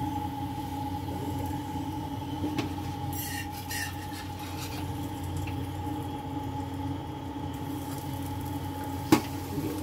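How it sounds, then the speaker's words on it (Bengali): A stuffed keema paratha fries in a little oil on a pan with a soft, continuous sizzle and a low steady hum, close but quiet, broken by a faint clink near the end, with no talk. "তারপরে সেঁকে অল্প তেল দিয়ে এপিট ওপিট করে ভেজে নেব"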